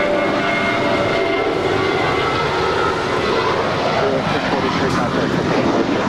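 A Spirit Airlines jet roars loudly and steadily as it takes off on runway 25 right at Los Angeles LAX, bound for Chicago O'Hare, while a radio voice speaks over the engine noise.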